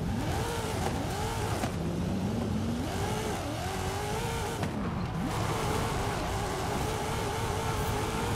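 A Forza Horizon 5 car drifts on a custom Formula Drift track with wooden planks, its engine revving and wailing in continuous rising and falling sweeps as the car slides, loud and unbroken with no talk.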